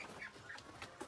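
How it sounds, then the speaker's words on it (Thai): A goose honks and clucks in a rural outdoor setting, giving several short, faint calls in quick succession. "นี่ห่านเนาะทุกคนเป็นห่าน"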